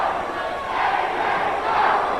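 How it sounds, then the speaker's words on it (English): A pro wrestling arena crowd roars and chants in loud, sustained support for D'Lo Brown during a match against AJ Styles, a dense wall of shouting voices swelling slightly toward the end. "Crowd right now fully behind D'Lo as they're just letting AJ know what they think about him"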